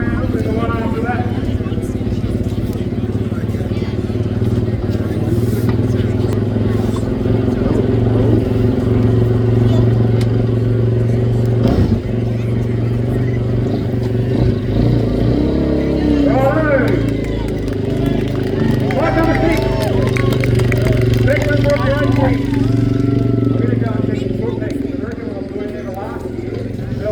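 Motorbikes and sidecars revving and pulling away at the start of a 24-hour off-road trial, engine drone layered with crowd chatter and a commentator talking over the scene.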